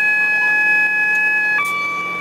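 AWS self-test warning tone inside the cab of DRS Class 37 locomotive 37038: a loud, steady electronic tone that holds, then steps to a different pitch near the end, close and alone.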